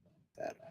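A single sneeze, one short, sharp burst of air that is faint overall and follows a brief soft murmur of voice.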